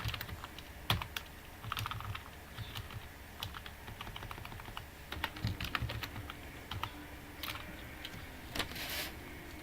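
Steady typing of code on a computer keyboard, with irregular bursts of close, crisp key clicks and a few louder keystrokes throughout, with no talking.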